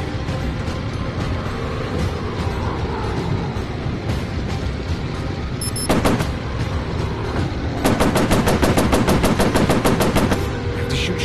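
Rapid machine gun bursts from a warplane in the VR flight game Warplanes, loud rattling volleys over a constant engine drone, with a short burst near the middle and a longer sustained burst toward the end.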